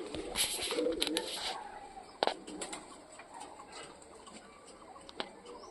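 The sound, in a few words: Punjabi pigeons cooing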